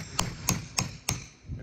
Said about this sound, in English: give it a couple taps to get it in the wood